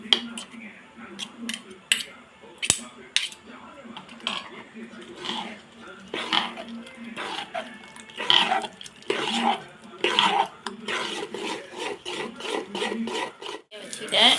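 A spoon stirs salt into thick adai lentil batter in a bowl, giving repeated soft scrapes and light clinks against the vessel, with a person talking between the strokes.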